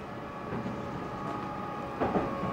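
Steady low rumble inside a quiet, nearly empty moving train on a snowy Gunma-to-Niigata rail line, a soft continuous hum with a slight swell of rattle near the end and no talking.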